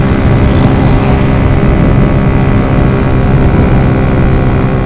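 Engine of a Rouser NS125 manual motorcycle climbing uphill, shifting gears with rev matching: a loud, steady, close-up rumble that runs throughout with no clear break.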